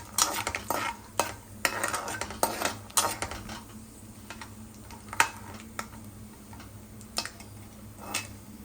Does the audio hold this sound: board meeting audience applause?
no